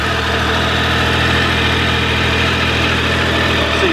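A Triumph motorcycle engine idling steadily, a loud, even, close-up mechanical drone with no starter or revving heard and no talking.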